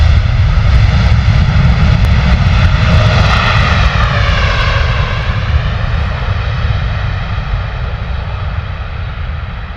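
A Qatar Boeing 777 freighter at London Stansted delivers a loud, close engine roar with a sweeping high whine that rises and bends early on, then settles into a steady, slowly fading rumble, no voices.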